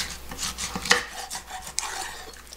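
Knife cutting through half a skinned stingray for a spicy raw-fish dish, a few short soft scraping and chopping strokes on a board, close and quiet, no talking.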